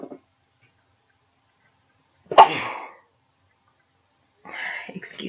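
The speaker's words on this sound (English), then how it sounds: "I was hoping I'd get through this whole video without sneezing" A single sharp sneeze bursts out close by in an otherwise quiet room during a cross-stitch session, preceded by a tiny sound and followed a couple of seconds later by a voice speaking briefly.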